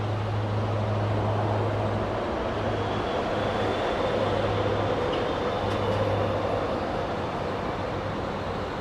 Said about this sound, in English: And the Fairchild is taken off.